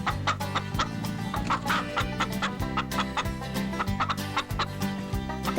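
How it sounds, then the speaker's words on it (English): Chickens cluck busily near a farm chicken house at breakfast time, a dense overlapping chorus of short repeated clucks from several birds close by. "These chickens are hurrying because it's breakfast time."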